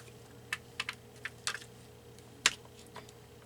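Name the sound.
scissors cutting paper flower strips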